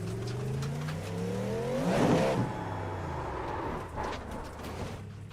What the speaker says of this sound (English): this is a full-blown hypercar